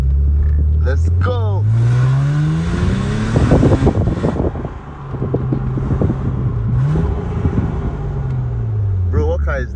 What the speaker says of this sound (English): So what we are driving here is a supercharged Lexus IS350.